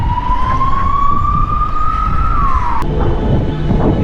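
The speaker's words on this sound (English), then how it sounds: "That's the sound of the police." A police car siren wails loud and close on a Sibiu street, its single tone rising steadily then sliding off before cutting out, over a constant rumble of traffic and street noise.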